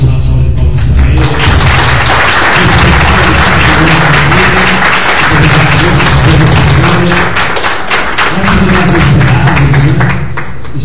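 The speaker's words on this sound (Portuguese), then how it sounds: "Vamos agradecer o Márcio, dar uma salva de palmas para ele." A church congregation gives a preacher a loud, sustained round of applause, with dense clapping and a few thumps throughout and voices mixed in.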